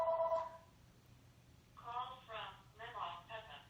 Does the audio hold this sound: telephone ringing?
yes